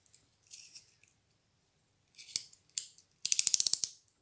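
A small utility knife, a box cutter, has its blade slid out in a rapid run of sharp plastic clicks, close and crisp, after a few softer scrapes and ticks in a quiet room.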